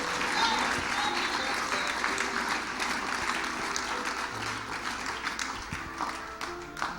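Church congregation applauding together after a call to praise, a steady dense clapping wash that carries through the whole stretch, loud and close with crowd noise and voices mixed in.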